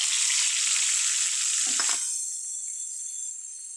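Five-spice seeds with bay leaf and dried chilli frying in leftover fish oil give a steady bright sizzle, with a brief clatter partway through before the frying quietens and continues more softly.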